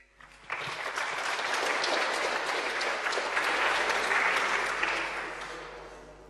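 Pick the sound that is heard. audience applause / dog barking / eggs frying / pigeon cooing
audience applause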